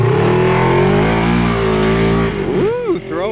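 A race car on a muddy dirt track revs hard and accelerates, its loud engine droning steadily and then rising and falling in pitch near the end, with a person talking over it.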